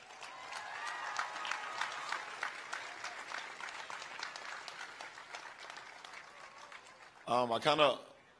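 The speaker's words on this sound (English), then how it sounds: "So we should all give ourselves a round of applause as well." Audience applause at the opening of LeBron James's I Promise School for at-risk kids, a steady wash of clapping that runs for several seconds before a voice breaks in loudly near the end.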